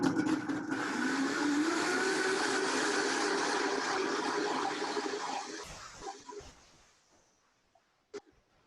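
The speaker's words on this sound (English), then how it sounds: "Here I go, I'm gonna blend." A blender whirs steadily while blending a ginger immunity tonic with about a cup of water, a loud, dense roar that winds down after five seconds into a few clunks and a faint click.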